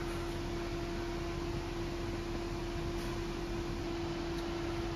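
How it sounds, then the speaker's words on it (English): Engine cooling fans on a Nissan with a 2.0 dCi M9R diesel engine run loudly throughout, a steady broadband whoosh with a constant tonal hum, heard alone with no talk. "Fans are still blaring, don't know if you can hear them in the background."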